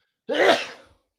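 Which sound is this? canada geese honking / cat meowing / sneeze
sneeze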